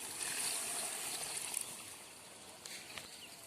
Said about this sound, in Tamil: இப்போ கொஞ்சமாக தண்ணி விட்டுக்கலாம்